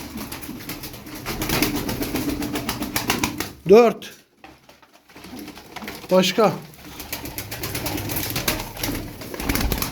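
Turkish flying pigeons coo in two short calls amid rustling and faint wing flaps, with someone talking nearby through much of it.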